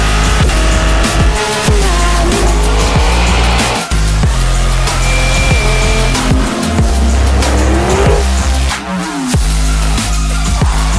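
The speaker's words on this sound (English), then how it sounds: "We got the Ferrari F8 Tributo versus my McLaren" A Ferrari F8 Tributo and a McLaren 720S launch down a quarter-mile drag strip, their engines loud and close, revving and roaring through gear changes with a tire squeal.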